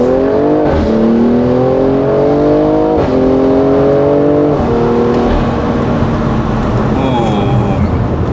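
A BMW M340i fitted with a big turbo accelerating hard from inside the cabin, its loud engine drone climbing in pitch and dropping at each of several quick gear shifts.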